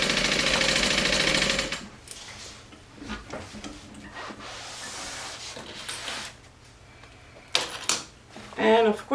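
A home sewing machine runs a seam on a bag project, a steady loud whir for the first couple of seconds, then quieter handling of fabric and a voice speaking near the end.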